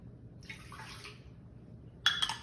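Water splashes briefly into a blender jar beside lemon juice and balsamic vinegar, a soft pour followed by a brighter, louder splash near the end, quiet and close with no talking.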